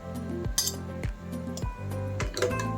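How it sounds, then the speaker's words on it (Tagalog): Mussels dropped into a pan of cooking carbonara, a series of clinking, knocking shell hits against metal, close and distinct, repeating every half second or so with no voices. "Yan, lagay natin yung tahong."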